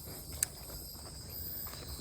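A cicada gives a steady, high, thin drone that holds through the whole stretch, with one sharp click early on and no voices.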